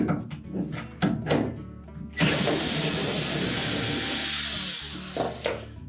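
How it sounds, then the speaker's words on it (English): Hinge bolts are undone from a Whirlpool refrigerator cabinet, starting with a few knocks and clicks and then a steady whirring power driver that runs for several seconds, close and fairly loud, ending with a couple of taps. "we'll remove the bolts that secure the hinge to the cabinet"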